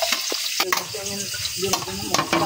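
Garlic and other aromatics fry in a pan as the base for sinagol fish with queen pango. A crackling sizzle runs through the clip, broken by sharp stirring scrapes and knocks.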